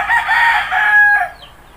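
A backyard game fowl rooster crows once, loud and close, a single drawn-out call lasting over a second that fades quickly at the end.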